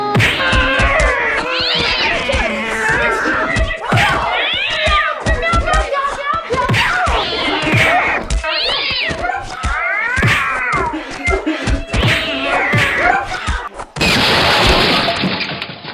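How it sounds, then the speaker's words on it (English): A cat fight outside, with continuous loud yowling, meowing and caterwauling rising and falling in pitch, ending in a sharp burst of noise. "that cat fight's going on outside."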